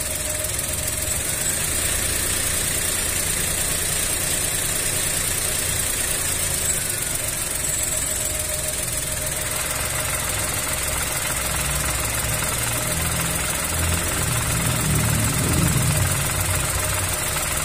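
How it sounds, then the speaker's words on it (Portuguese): A 2023 Chevrolet Onix idles steadily with the clutch released, a constant close engine drone carrying a faint gearbox whine, with a low rumbling swell near the end and no talk. "Tem um barulhinho no câmbio, ó. Só que é um ruidinho, ó. Normal do câmbio de trabalhar"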